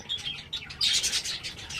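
Budgerigars chirp and twitter in quick, high bursts in a cage during feeding, fairly close, with no talking over them.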